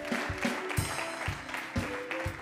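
Church congregation clapping along to a song praising Jesus, steady rhythmic hand claps over music and cheering voices in a lively room.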